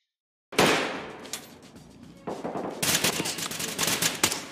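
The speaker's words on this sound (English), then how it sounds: "Wait, we've been shot from outside again." Gunfire from outside in the tactical shooter Ready or Not: a sudden loud burst of rapid shots, a brief lull, then renewed dense automatic fire with sharp cracks continuing to the end, heard alone without talk.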